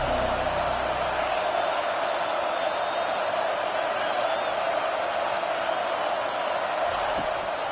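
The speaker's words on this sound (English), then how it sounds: "Here comes this home crowd as the defense tries to get off the field on third down." A home football crowd at a Tennessee v Auburn game roars steadily as the defense tries to get off the field on third down, a dense, loud, unbroken stadium wash.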